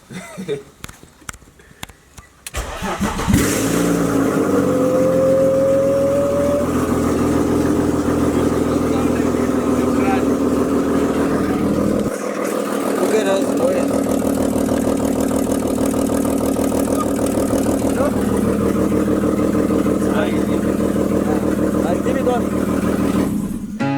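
A BMW E46 engine cranks and starts for the first time after a rebuild, then idles steadily and revs up close by, with people talking over the running motor.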